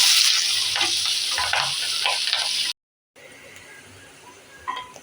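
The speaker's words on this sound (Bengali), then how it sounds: "পেঁয়াজটা দেখুন একটু ভাজা ভাজা হয়ে গেছে।" Sliced onion frying in melted butter in a pan gives a steady, moderately quiet sizzle with soft stirring scrapes, broken by a short gap before a fainter sizzle resumes.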